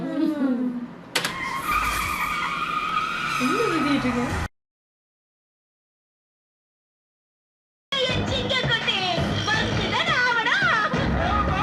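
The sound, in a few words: hero's car spinning and skidding in a film scene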